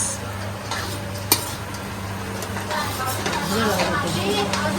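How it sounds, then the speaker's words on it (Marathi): Dry fruits stirred and sautéed in ghee in a pan for a rava cake, a soft continuous sizzle with a spoon scraping and one sharp clink, close up under a low kitchen hum. "आता ह्यात घातलेत आपण ड्राय फ्रूट्स थोडे तुपावर परतून घ्यावे ड्रायफ्रुट्स"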